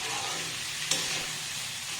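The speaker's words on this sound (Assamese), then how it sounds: "চাউলখিনি ভাজি ভাজি এতিয়া ৰঙচুৱা হৈছে" Rice sizzles steadily as it fries in a pan for pulao, a continuous crackling hiss with a single sharp tick partway through and no talking.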